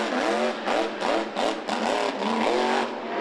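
Dennis Anderson's Grave Digger monster truck at a Monster Jam show, its engine revving hard in repeated loud throttle bursts that rise and fall several times in quick succession.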